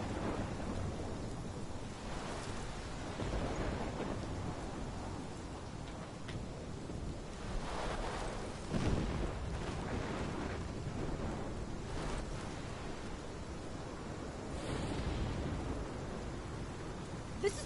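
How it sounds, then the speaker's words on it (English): A thunderstorm from the video game Life is Strange, with steady, dense rain and repeated deep rumbles of thunder that swell and fade throughout, loud and enveloping, with no voices. "My storm!"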